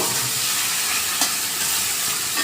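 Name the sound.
water poured into sizzling fish curry gravy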